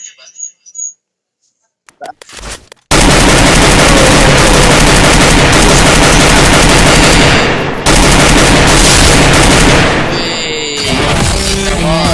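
Dense, very loud automatic gunfire in a shooter video game erupts after a quiet start with brief speech, then rattles on continuously with overlapping shots and effects while someone talks.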